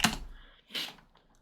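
A computer keyboard clacks as code is typed, with a couple of quick, close key presses separated by a short pause and no voices.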